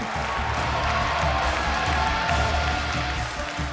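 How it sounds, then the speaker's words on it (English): A large arena crowd at BlizzCon 2013 cheers for a young StarCraft pro at a Ro4 match, a loud continuous roar of voices and applause filling the whole stretch with no break. "Give a cheer for Maru Prime!"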